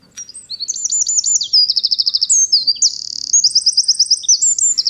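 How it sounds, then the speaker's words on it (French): A Eurasian wren delivers a rapid, high-pitched song of fast trills and sharp chirps in one continuous phrase lasting several seconds, bright and close against a quiet background. "On va l'écouter, d'ailleurs, ce petit oiseau-là, qui s'appelle le troglodyte mignon."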